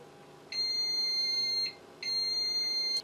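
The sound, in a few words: FlashForge Finder 3D printer bed-leveling beep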